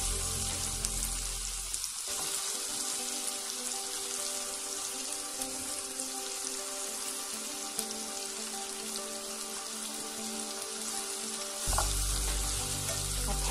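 Cabbage frying in a pan for a low-carb cabbage pie, a continuous hissing sizzle like light rain, briefly interrupted early as the cabbage goes in, then a louder burst of sizzling near the end; no voices.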